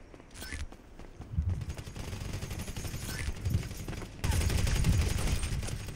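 Shotgun fire in GTA 5 comes as several heavy blasts spread over a few seconds. The blasts sit amid busy game noise, and a louder burst of fire closes the stretch.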